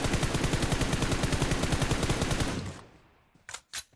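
Rapid automatic gunfire in the mobile battle-royale shooter PUBG Mobile, a loud burst of evenly spaced shots for about two and a half seconds, then a brief lull and two separate sharp bangs.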